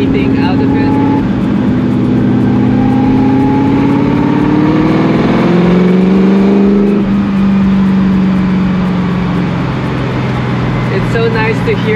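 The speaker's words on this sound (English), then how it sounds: "So nice to hear the induction sound of the engine right behind your head." A Ford GT40 engine's induction roar, from right behind the driver's head at Clark Speedway, swells as it revs up, pitch climbing then easing back, loud and close, with a steady drone underneath.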